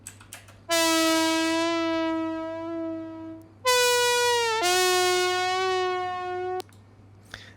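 A basic Serum synth preset for Afro house, played dry with its reverb switched off, sounds bright buzzy sustained notes, two long held tones with a sliding pitch change between them, loud and alone.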